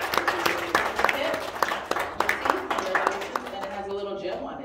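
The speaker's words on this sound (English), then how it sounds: "So let's give her another round of applause." A church congregation claps in applause during a worship service, a lively patter of individual hand claps that fades out as a voice starts speaking.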